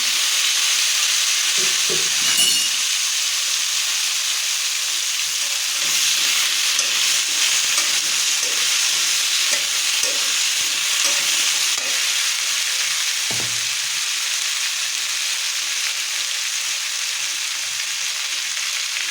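Green chili, onion and banana frying in a pan in a home kitchen, giving a steady, loud, continuous sizzle and hiss with occasional stirring scrapes throughout.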